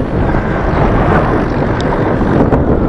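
Steady outdoor wind buffets the microphone on a slope while a 120 g slope soarer glider is flown, a continuous loud broadband rush with no talk.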